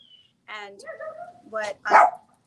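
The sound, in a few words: dog barking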